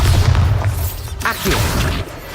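A Bombarda explosion spell goes off in Hogwarts Legacy, a heavy low boom with crackling debris bursts trailing after it, loud and close.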